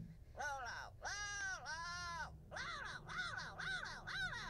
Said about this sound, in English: Oh, it's just a parrot.